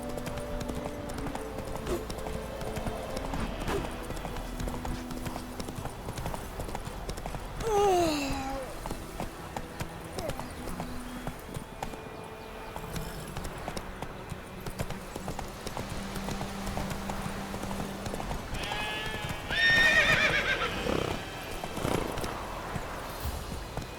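Roach the horse in The Witcher 3 video game, hooves clip-clopping steadily through the whole stretch over game music and ambience, with a brief whinny-like call near the end.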